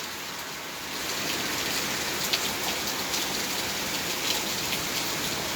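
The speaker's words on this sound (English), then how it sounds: "So, raining hard." Heavy rain beginning about a second in, then pouring steadily as a dense, even patter with occasional sharper drops hitting nearby surfaces.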